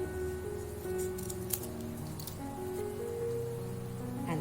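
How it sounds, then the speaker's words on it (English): Scissors cutting a paper square into a triangle for a children's kite craft: faint, soft snips and paper rustles over a quiet, humming room, with no speech. "Take this square and cut this into a triangle like this."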